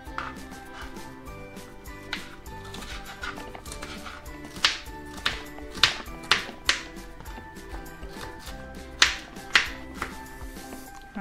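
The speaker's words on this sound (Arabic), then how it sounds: "هقطع الفلفل الالوان شرايح وبعدين مربعات رفيعة" Colored bell peppers cut into thin strips with a knife, sharp scattered taps against a board over a background of steady music.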